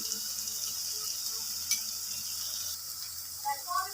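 Chili powder frying in oil for mushroom curry, a steady high sizzle close by with a spoon scraping and clinking now and then, a few brief chirpy squeaks near the end.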